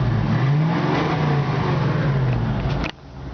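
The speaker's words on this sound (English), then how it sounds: "the exhaust sounding quite that subtle. It's got a nice little roar to it" The engine of a 1966 Ford Mustang convertible revs up and settles, its exhaust giving a close, steady, mild roar. The sound cuts off sharply near the end.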